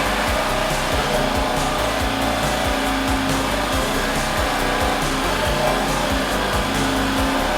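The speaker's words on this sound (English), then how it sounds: "I'll see how I get on with this little jigsaw." Small jigsaw cutting through a wooden kitchen worktop, a loud continuous motor whine with a rapid rattling blade chatter, steady and close throughout with no talk.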